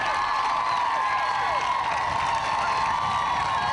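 At the Falmouth Road Race finish, a large crowd cheers and whoops steadily, with clapping mixed into a continuous, fairly loud roar.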